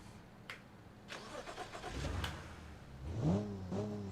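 A car engine in the Automation video game, built as a street-style car, cranking then revving up through a few rising throttle blips, fairly quiet and heard alone.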